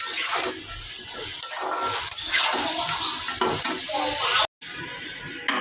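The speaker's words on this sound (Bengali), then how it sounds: "লাউ শাক ভাজির জন্য পেঁয়াজটা ভেজে নিচ্ছি" Onion fries in a pan for bottle gourd greens, making a close, crackling sizzle with scraping stir sounds that rise and fall and then cut out sharply for a moment before resuming.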